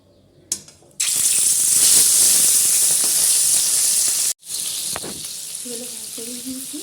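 Fish dropped into hot oil in a pan: after a brief clatter, a loud, bright hissing sizzle bursts in and holds, cuts off briefly, then resumes slightly quieter, with a voice speaking faintly near the end.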